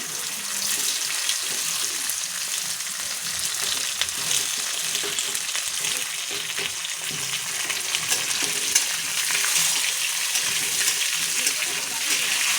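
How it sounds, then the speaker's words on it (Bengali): Potato pieces fry in oil in a pan with onions set aside, a continuous bright sizzle with occasional scraping stirs, steady and close throughout. "খুব সুন্দর করে আমি কিন্তু আলুটা ভাজা করে নিয়েছি।"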